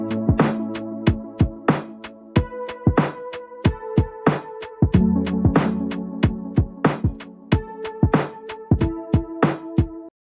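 Lo-fi hip-hop beat, with a synthesizer patch sitting dull and unequalized over a steady kick-and-snare pattern. Sustained chordal tones shift every few seconds beneath the sharp, evenly spaced drum hits, and no voices are heard.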